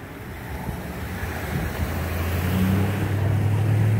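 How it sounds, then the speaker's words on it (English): A car coming around a corner near an auto wrecking yard, its engine hum rising steadily and growing louder over a few seconds, mixed with wind noise, no talking. "I had to wait a minute for a car there to come around the corner"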